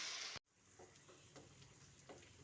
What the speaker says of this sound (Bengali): তারপর এই গরম তেলের মধ্যে দিয়ে দিচ্ছি